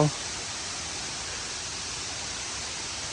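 The waterfall at Tham Soda temple gives a constant broadband rush of falling water, steady and moderately distant, with a brief knock at the very start and no voices.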